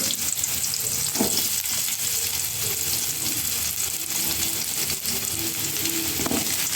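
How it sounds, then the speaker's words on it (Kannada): Chopped onions go into hot oil with popped mustard seeds, giving a loud, close frying hiss with stirring and occasional utensil knocks, no talking. "ಇವಾಗ ನಾನು ಕಟ್ ಮಾಡಿ ಇಟ್ಕೊಂಡಿರೋ ಈರುಳ್ಳಿ ಹಾಕ್ತಿದ್ದೀನಿ"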